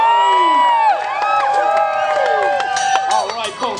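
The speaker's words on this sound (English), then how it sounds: "cheer your champion on if you wish him to be victorious this day" A festival crowd at a Renaissance jousting event cheers and whoops for a knight, with many overlapping voices rising and falling and an announcer-like voice carrying over the din.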